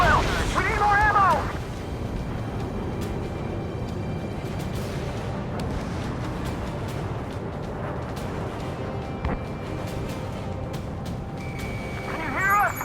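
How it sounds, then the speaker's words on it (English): Explosions and gunfire rumble through an Ace Combat 7 Skies Unknown mission, a dense roar of blasts and booms in a battle with enemy tanks, with sharper bursts scattered throughout and radio voices heard over it. "We're taking fire from multiple enemy tanks! An explosion inside!"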